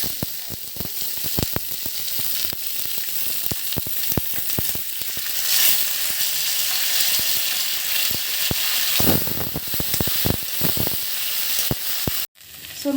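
Bay leaves and dried red chillies sizzle in hot oil, crackling and spitting loudly and close. Sharp pops punctuate the steady frying hiss before an abrupt cut near the end.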